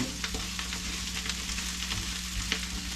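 Mushrooms and onions sizzle and fry steadily in a pan, a continuous crackling hiss with occasional stirring, close and alone without talk.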